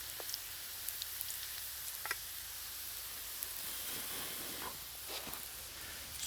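Wild fungus frying over a campfire during a thunderstorm, a faint steady hiss and sizzle with scattered small pops and ticks, no voices.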